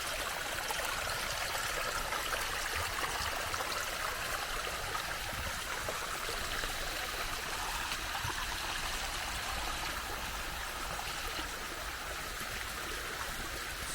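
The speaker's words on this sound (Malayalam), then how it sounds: "കാട്ടിന് വെള്ളം മഴ പെയ്ത് ചോല വെള്ളം ഇങ്ങനെ ഒഴുകിയിരുന്നു" A forest stream of rainwater rushes steadily and continuously, a full, even roar of flowing water with no voices.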